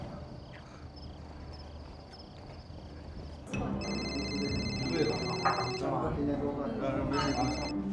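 A telephone rings on and off indoors during a domestic drama, its bell tones sounding in bursts over a background hum while people talk nearby.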